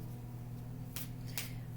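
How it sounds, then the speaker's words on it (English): Two quick riffling bursts of tarot cards being shuffled, close and soft, over a constant low electrical hum. "Hard to shuffle with my arms extended"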